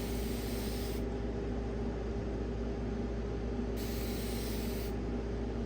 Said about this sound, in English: I have a water gun here, a spray water, and that's how I'm going to rehydrate them